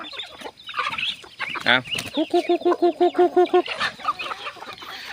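Chickens cluck in a rapid run of short, evenly spaced calls on a rural farm, close and fairly loud, with other farmyard sounds and brief talk around them.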